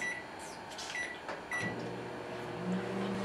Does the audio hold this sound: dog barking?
no